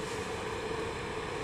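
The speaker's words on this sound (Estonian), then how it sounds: "pallad vee välja ja makaronid jäävad alles." Water from cooked pasta pours through a strainer outdoors in a forest camp, a steady close rushing splash with no talking.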